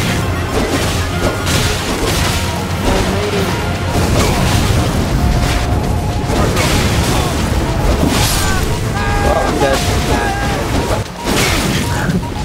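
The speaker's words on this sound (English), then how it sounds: "The dragon's shooting lasers!" Dense, loud game effects from a dragon firing lasers in Elden Ring fill the whole stretch, with repeated booms, crashes and bursts and a steady roar beneath.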